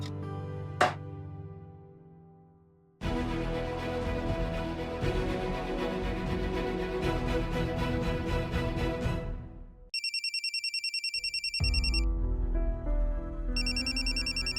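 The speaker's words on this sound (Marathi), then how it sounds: "तुमचा फोन वाजतो आहे" A mobile phone left on its charger rings indoors. After a faint opening tone, a loud melodic ringtone plays for several seconds, then gives way to a bright electronic ring pattern of repeating pulsed tones with short gaps.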